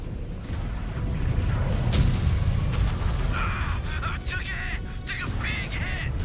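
Missile impact explosions in the MechWarrior 5 combat game roll as a continuous low, heavy rumble of booms, with brief electronic alert tones layered on top.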